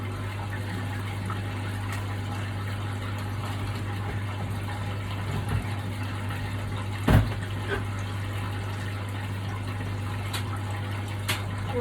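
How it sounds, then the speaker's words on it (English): A large water bottle being filled from a tap after cleaning, with a steady low hum and continuous running-water wash, a few brief knocks and clicks, no talk. "Filling up their other bigger water bottle after I've cleaned and disinfected that one too."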